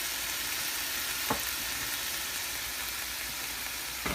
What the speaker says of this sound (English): I'm also going to add some butter